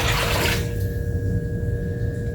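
Water gushes loudly from a tap while being measured out for canning cucumbers into dill pickles, a steady rushing flow close up that eases slightly after the first half second and carries on without talk.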